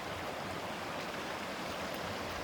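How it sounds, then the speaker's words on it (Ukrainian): A mountain river in the Carpathians flows nearby with a steady, soft, hissing rush of water. The sound is continuous and fairly faint, with no voices over it. "Я ж вам обіцяла, що підійду до річки."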